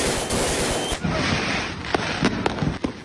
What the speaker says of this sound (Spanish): desconocidos ingresaron a la cancha y lanzaron al público tronadores de pirotecnia